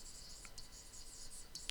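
Pen writing by hand, a quiet continuous scratchy stroke sound with a few faint taps, close and low in level.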